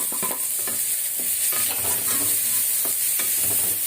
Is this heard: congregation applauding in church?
no